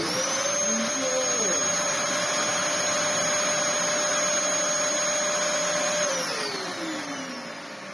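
A Dyson DC07 upright vacuum cleaner motor runs loudly and steadily with a high whine, holding pitch for several seconds before spinning down and fading toward the end.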